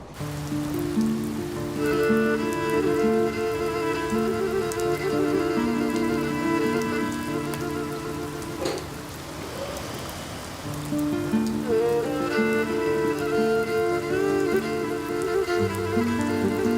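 Steady rain hisses throughout beneath a sustained musical score, dipping briefly in the middle before the music swells back.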